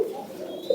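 Racer pigeons coo in a short, close, moderately loud burst of low murmuring calls, with no talking.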